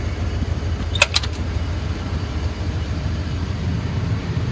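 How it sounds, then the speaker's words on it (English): A 1995 Ford F-350 XL cab-and-chassis truck with a 7.5L gas V8 idles steadily, a low, even engine rumble running throughout, with a brief metallic jingle near the start. "Motor sounds nice and even."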